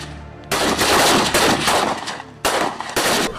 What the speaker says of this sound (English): the cadets participated in the inter-battalion shooting competition at the Nigerian Defense Academy Shooting Range